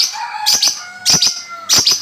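Cage birds in a bird shop chirp in three bright bursts, near and loud over a steady background twitter, with no talk.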